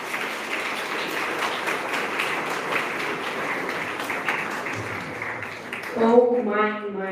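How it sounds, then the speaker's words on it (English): Audience applause at a book launch, a steady wash of many hands clapping at moderate volume for several seconds, fading near the end as a voice begins speaking over it. "let us give a big applause to her"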